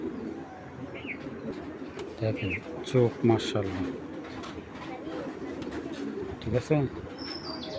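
Giribaz pigeons coo and murmur close by, in rolling bursts beneath a voice talking over them.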